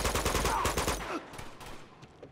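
Enemy gunfire in the video game Uncharted 2 cracks out as a rapid, loud burst of repeated shots for about a second, then thins into scattered fainter pops and echoes.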